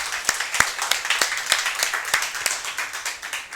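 A crowd at a motivational event claps together for the youth team, with steady, crisp hand claps running throughout and some voices faintly mixed in.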